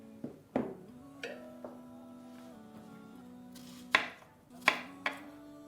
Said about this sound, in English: so I'm going to cut some onions and add in here.